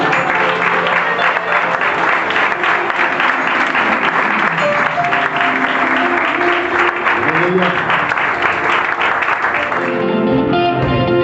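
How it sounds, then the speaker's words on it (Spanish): A church congregation gives sustained, loud applause that fills the room for about ten seconds before fading, with voices and music mingling beneath it. "Un fuerte aplauso al Señor"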